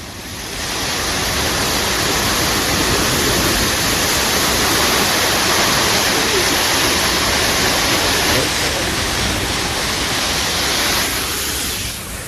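Gundicha waterfall swollen by the monsoon rain, a loud, continuous roar of a strong current with a dense rushing wash, steady and near, without talk.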